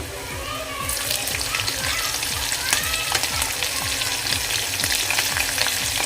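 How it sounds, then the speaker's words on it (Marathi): Fried garlic and freshly added green chillies sizzle loudly in a pan, the hiss swelling when the chillies go in, with steady close scraping stirs and no talking. "फ्राय झाला लसूण आता इथे आपण मिरच्या घालूया"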